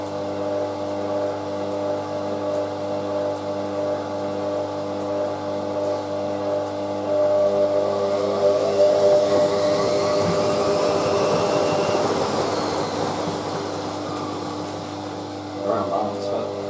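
Hotpoint Aquarius WM63 1100 washing machine running its final wash with the lid off, a steady loud motor hum with sloshing and a rising whir midway, continuous throughout.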